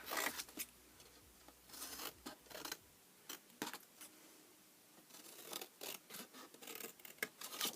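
Scissors cut through a large piece of cardstock for a 4-foot cubed box, a run of close, crisp snips and scraping rustles with short pauses between cuts.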